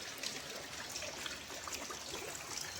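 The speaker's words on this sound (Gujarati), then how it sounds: "અમારે વરસાદ આવે છે" Gentle rain falling steadily outdoors, a soft continuous patter and trickle of running water, faint and even throughout, with no voices.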